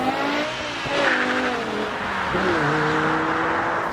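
A BMW E60 M5 driven hard on a long open-road trip, its engine note rising and shifting through gears with a sustained, loud whine and rushing wind and road noise throughout.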